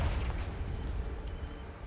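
A Confringo blasting spell explodes in Hogwarts Legacy, a broad rumbling boom that hits at once and slowly fades, heard alone without talk.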